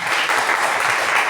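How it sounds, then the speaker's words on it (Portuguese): Brief burst of dense applause from students at a panel with former alumni, steady and fairly loud across the short moment. "Salve de palmas"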